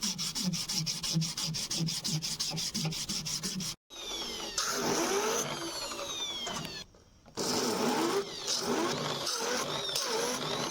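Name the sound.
sanding resin knife handle with sandpaper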